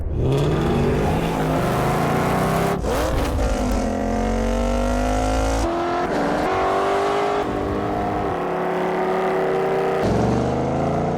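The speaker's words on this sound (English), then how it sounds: "Ford Mustang." Ford Mustang engine revving hard, loud aggressive throttle blips and rising, falling pitch sweeps with abrupt cuts between passes, close and dominant throughout.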